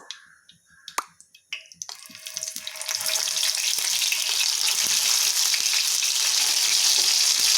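Marinated raw banana slices dropped into plenty of hot oil in a pan: a few sharp clicks and taps, then a loud, dense, steady crackling sizzle that swells and holds close up.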